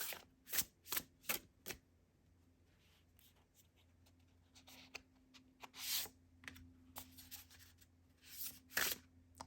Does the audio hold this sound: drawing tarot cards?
yes